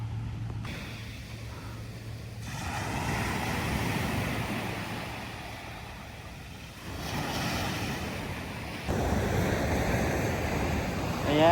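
Sea waves wash onto Barceloneta Beach in Barcelona before dawn, a broad rushing surf with wind buffeting the microphone, swelling and easing in uneven surges.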